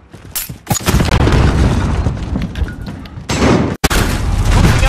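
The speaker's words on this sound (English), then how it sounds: "Grenade out! Flash out!" Loud explosions from grenades and flashbangs thrown in the online shooter game Call of Duty Modern Warfare, heavy booming blasts and bursts filling the scene almost continuously, with a brief cutout before another blast.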